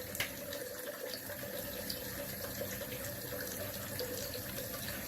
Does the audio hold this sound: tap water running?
yes